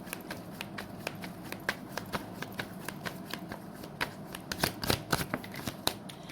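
A tarot deck is shuffled by hand with quick, close rustling riffles and soft card flicks in an irregular rhythm, growing busier near the end as a card is drawn.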